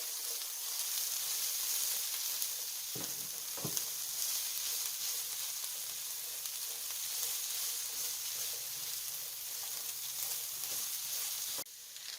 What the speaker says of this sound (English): Saute it for a little bit here